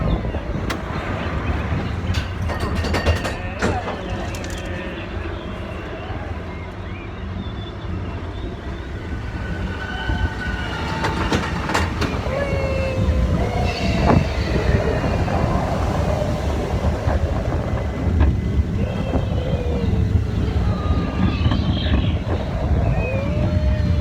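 The Expedition Everest roller coaster train runs at Animal Kingdom in a loud, continuous rumble and roar, with rattling and faint crowd noise in a steady wash throughout.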